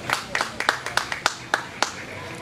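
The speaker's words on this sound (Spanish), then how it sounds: "Un fuerte aplauso, por favor, para el señor ministro de Comunicaciones," Scattered applause at an outdoor Guatemalan road-opening ceremony: a small, sparse burst of separate claps that fades quickly, with no speech over it.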